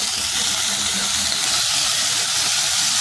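Onion paste sizzles steadily in a hot pan, a loud continuous bright hiss with no pauses, close and alone without talk.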